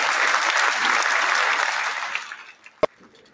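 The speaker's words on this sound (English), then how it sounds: "Y'all give a round of applause" Studio audience applause on a podcast set welcoming an artist back, a couple of seconds of loud, dense clapping that tapers off quickly, ending with a single sharp knock or clap.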